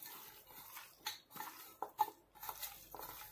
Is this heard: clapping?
no